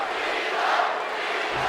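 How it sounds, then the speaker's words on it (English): Arena crowd in the WWE 2K24 video game chanting for John Cena, a loud, continuous wall of massed voices that swells slightly without a break. "the crowd chant away for John Cena"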